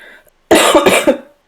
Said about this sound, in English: But then I just coughed.